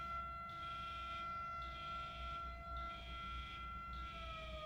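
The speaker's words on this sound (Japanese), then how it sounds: "このサイレンがすごい気になる。" A prison alarm siren in the video game RoboCop: Rogue City wails in repeating rising and falling cycles, steady and fairly loud over a low background rumble.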